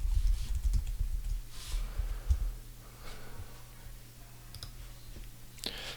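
Computer keyboard typing, a run of light quick key clicks up close, irregular taps spread over several seconds above a low steady hum, with no talking.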